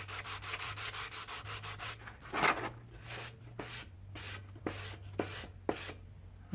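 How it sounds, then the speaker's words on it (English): Rhythmic back-and-forth strokes of a sanding block on a knife handle rasp up close, quick at first, then slower and more spaced out, with no talking. "you can see how quickly this is sanding."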